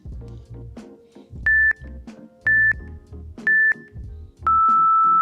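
A workout interval timer app sounds three short, loud electronic beeps about a second apart, then one long sustained beep, over quieter background sounds in a gym.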